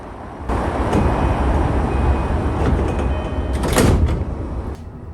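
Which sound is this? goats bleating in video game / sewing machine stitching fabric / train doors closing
train doors closing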